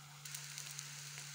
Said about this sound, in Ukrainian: Обжарюємо з двох сторін на малому вогні.